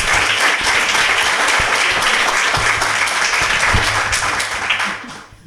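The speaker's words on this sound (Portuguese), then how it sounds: "Uma salva de palmas para a professora." Audience at a Women's Day gala in Lajes applauds a teacher: dense, steady clapping close by that holds for several seconds before tapering off at the end.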